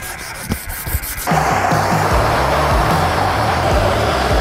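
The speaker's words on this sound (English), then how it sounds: "I'm just gonna use some steel wool and kind of scrub that off and then give it another go." Steel wool scrubbing the finish on a handmade pipe tomahawk, a steady close abrasive rubbing that starts lighter and becomes a continuous loud rasp after the first second, with repeated back-and-forth strokes.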